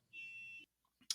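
A car alarm goes off outside a gym, a steady high electronic tone lasting about half a second, then a short pause and a brief harsh burst.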